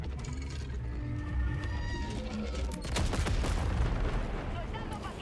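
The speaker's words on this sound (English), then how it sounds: "¡Bomba fuera!" Bomb dropped and exploding in Helldivers 2, a dense rolling burst of blasts and crackling debris swelling near the middle, layered over ongoing gunfire and mechanical clatter with faint voices in the mix.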